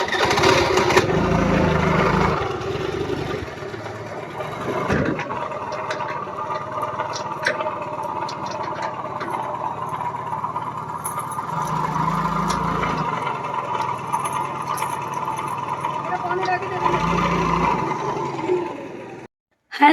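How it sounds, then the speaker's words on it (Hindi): A scooter and a motorbike ride along together, their engines humming and buzzing close by in a steady stream with a few louder surges and brief revs, stopping abruptly at the end. "मैं जाऊँगी अपनी स्कूटी से, जय जाएंगी अपनी बाइक से"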